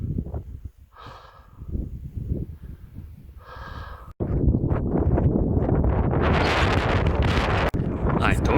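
Strong wind buffets the microphone on a high mountain ridge in the Carpathian peaks, at first gusty and broken, then roaring loud and steady from mid-clip onward, while a voice speaks faintly over the rushing noise.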